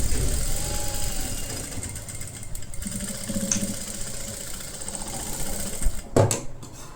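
Sewing machine stitching a halter-neck kurti, a continuous mechanical whir running steadily, then a few sharp clicks and knocks near the end.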